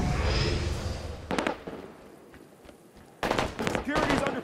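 Bursts of gunfire in a SWAT video game, with sharp shot clusters near the start and a dense, louder volley in the last second, over a steady game background.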